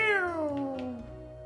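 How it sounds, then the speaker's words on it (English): A cat's meow from the Chrono Cross video game, a single drawn-out falling cry, clear and close, with no talk over it. "Kitty. Hello, Kitty."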